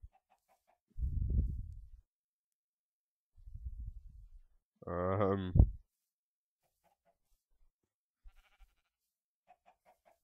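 Chickens in the Minecraft video game give a few short, separate clucking calls, with quiet pauses between them.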